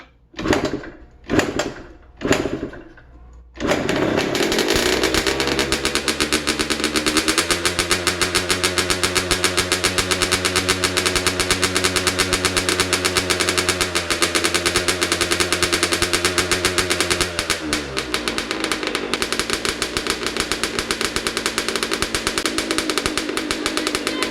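A 2003 Yamaha YZ85 two-stroke dirt bike with a fresh top end is kicked over a few times, then fires up and runs steadily and loud, its engine note holding at a high idle before settling slightly lower near the end.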